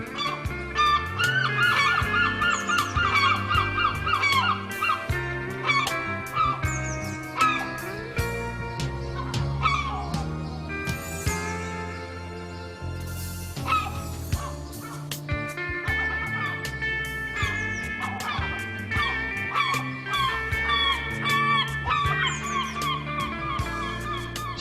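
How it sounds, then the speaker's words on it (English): Parent gulls at Tynemouth scream loudly and almost continuously above a struggling chick, their harsh overlapping calls dense and close throughout. "the parent gulls screamed encouragement"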